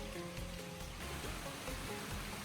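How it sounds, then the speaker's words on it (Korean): Clear stream water flows through a mountain valley along a forest trail, a steady, faint rushing and trickling that continues alone without a break. "계곡에는 아직 맑은 물소리가 남아있고"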